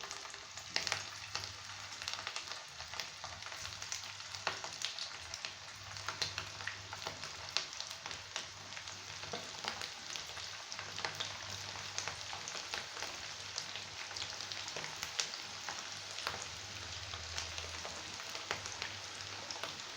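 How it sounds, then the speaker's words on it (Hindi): Beef mince kebabs fry in hot oil over medium heat, giving a continuous dense sizzle with crackling pops that runs steadily throughout, with no talking. "ऑयल मैं ऑलरेडी गर्म कर चुकी हूँ, तो चले इनको तलते हैं"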